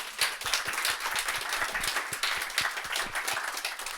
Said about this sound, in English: please give him another very big round of applause